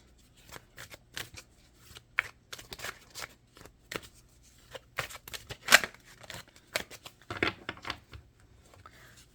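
Tarot cards being shuffled during a Hindi/Urdu card reading: a run of quick, crisp riffling bursts and soft slaps in an irregular rhythm, close and fairly quiet, with no talking.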